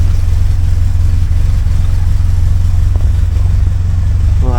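A 1976 Alfa Romeo Spider drives with a loud, steady engine drone close by, holding an even pitch with a slight rise near the end.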